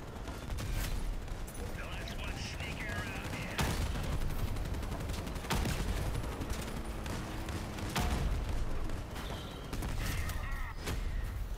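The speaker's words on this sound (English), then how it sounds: "I'm shooting the stripped guy!" Gunfire in a clan match of an online shooter: scattered sharp shots and short bursts spread across the stretch, over a busy background, with players talking throughout.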